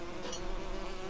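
A bee from the LEGO The Hobbit video game buzzes steadily in a short, close, soft drone with a fluttering wingbeat tone and no talking.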